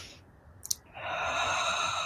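A single deep breath drawn and slowly exhaled during a guided healing prayer, a brief soft intake followed by a long steady breathy exhale, close and alone.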